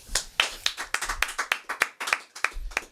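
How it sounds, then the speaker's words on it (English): Podcast hosts clapping their hands in a studio, roughly a dozen sharp, close claps in an uneven rhythm with brief gaps, dry and distinct rather than a crowd wash. "So let's clap"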